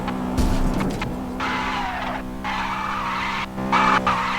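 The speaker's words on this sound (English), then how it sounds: "I've just crashed into our studio and it's completely fine" Tyres squeal loudly as a Honda Civic skids and crashes into a studio, with sustained screeching in several bursts over engine noise and a short thud near the start.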